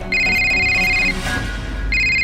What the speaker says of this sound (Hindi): काजल का फोन है।